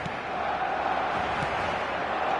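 Stadium crowd in the eFootball 2026 football game: a steady, dense roar of fans on a clear match night, continuous and fairly distant, with no distinct chants standing out.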